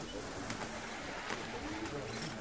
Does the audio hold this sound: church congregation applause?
no